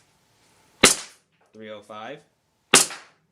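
Two sharp, loud cracks from an AW Custom HX23 Hi-Capa airsoft pistol firing 0.2 gram BBs through a chronograph, spaced about two seconds apart, with a voice speaking briefly between the shots.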